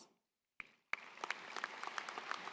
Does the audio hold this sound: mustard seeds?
no